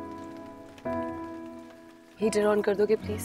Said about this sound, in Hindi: पहली बारिश ने ही मौसम बदल दिया